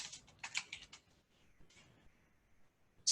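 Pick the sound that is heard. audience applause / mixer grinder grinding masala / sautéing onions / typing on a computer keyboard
typing on a computer keyboard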